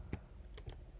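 Three quick, faint keystrokes on a computer keyboard, light taps spaced closely in a quiet room.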